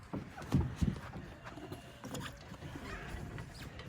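Logging horses pulling a carriage on a ride past a pumpkin patch, their hooves clip-clopping faintly with a couple of louder thumps early on, alongside creaks and rattles from the rig.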